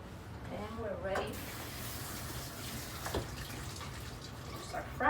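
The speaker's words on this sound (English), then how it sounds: "You might run it by water for a little bit" Tap water runs over cut potatoes in a kitchen while preparing a Spanish tortilla de patatas: a steady, close splashing hiss throughout, with a voice briefly speaking near the start.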